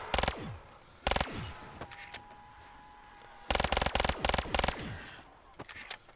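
RK5 weapon fire in a video game, rapid bursts of sharp clattering shots in three groups with quieter gaps between, loud and close, with faint game sounds in the gaps.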